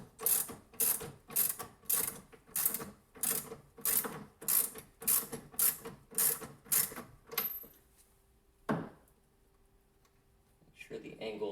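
A ratchet wrench tightens the final bolt on a drill-free ladder mount for a bass boat, clicking in a steady series of about a dozen loud, even strokes, then stopping before a single short clunk.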